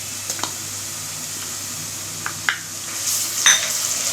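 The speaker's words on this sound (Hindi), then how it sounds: "अदरक लहसुन डाल रहे हैं" Soft sizzling of ginger garlic paste in a hot pan with scattered clicks of a spoon or utensil stirring, growing a little louder toward the end; no voices.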